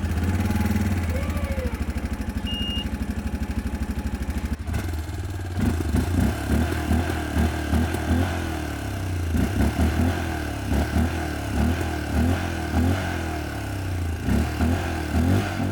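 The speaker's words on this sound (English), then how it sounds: "The sound of the engine is quite pleasant." Loncin X-Wolf 550L mid-size ATV engine cranks and catches, then settles into a loud, steady idle with a rhythmic, slightly clattering pulse that continues close by.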